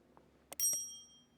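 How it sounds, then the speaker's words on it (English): A single bright bicycle-style bell ding rings out clearly after a faint tap, its metallic tone ringing on and fading over about a second, alone. "click the bell."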